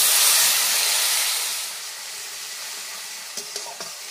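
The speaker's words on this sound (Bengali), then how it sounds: "পিউরিটা দিয়ে ভালো করে কষিয়ে নিয়েছি যাতে টমেটোর কাঁচা গন্ধটা চলে যায়" Tomato puree with ginger, turmeric and Kashmiri chilli powder sautéing in a pan gives a loud, close hiss that slowly fades, followed near the end by a few light scraping knocks, with no voices.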